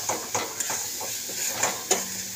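Spice masala for chicken doi being stirred and fried in a pan: a soft sizzle under repeated scraping and clinking of a spoon against the pan, several sharp knocks spaced irregularly, close and fairly quiet.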